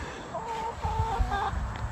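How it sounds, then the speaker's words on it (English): Backyard chickens cluck in a coop in New Jersey, a cluster of soft, uneven calls and low scratching noises close by, with no talking. "we chilling with the chickens"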